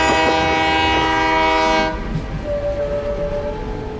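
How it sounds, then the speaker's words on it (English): A train horn blasts loud and close for about two seconds, a rich chord of tones, then cuts off leaving rail rumble and a thin high squeal. "the sound of the train whistle is like a lullaby at night"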